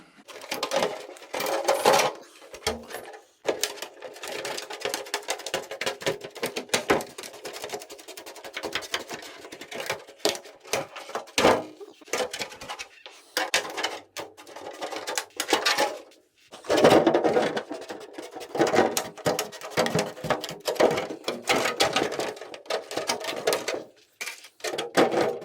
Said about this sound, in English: So I'm just going to cut below that line.